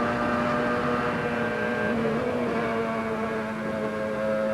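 A 1998 racing car held flat out through a lap gives a steady, loud engine drone with sustained tonal harmonics. The note holds throughout with no break and no talk over it.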